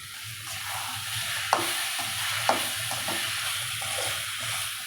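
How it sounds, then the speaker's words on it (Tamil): Capsicum, onion and tomato sautéing in a pan, giving a continuous soft sizzle with a couple of distinct scrapes from stirring, no talking. "தக்காளி வெங்காயம் நல்லா வதங்கிட்ட உடனே கேப்சிகத்தை போட்டுக்கலாம்"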